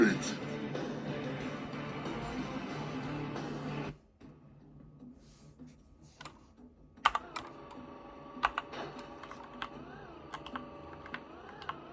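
Computer keyboard keys clatter rapidly while someone plays an arcade-style PC game, dense close typing at first, then sparse scattered key presses over quiet game sounds.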